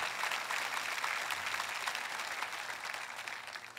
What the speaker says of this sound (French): Voulez-vous applaudir Elohim qui est là pour vous et pour moi?